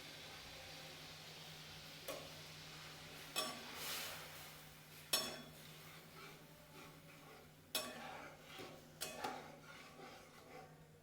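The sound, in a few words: stirring sambar masala into dal in a pot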